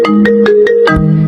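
Phone ringtone in an animated school drama, a loud close melody of about five quick repeated notes followed by a lower sustained note, with no voices over it.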